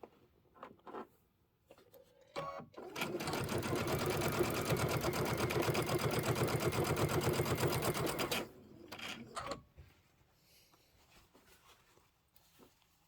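A sewing machine stitches a quilt section for about six seconds, a steady rapid mechanical whir with a fast needle rhythm, close up, framed by quiet handling clicks before and after.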